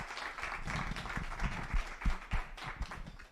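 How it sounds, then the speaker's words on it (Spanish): A small audience gives steady applause for two speakers, Miriam and Violeta, at a modest gathering; a dense wash of clapping with a few louder hand slaps standing out near the end. "os pediría un aplauso a Miriam y a Violeta"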